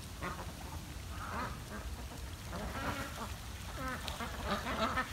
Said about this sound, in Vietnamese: Nó mà kêu kiểu đó là vịt cái đó.